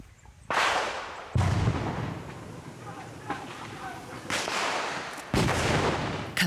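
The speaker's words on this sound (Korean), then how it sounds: "갑자기 들려온 폭음과 총소리에 시민군들이 뛰쳐나옵니다" Sharp blasts and cracks of explosions and gunfire during a Myanmar civilian militia combat training drill burst out several times, loud and close, with a rumbling, noisy backdrop between the reports.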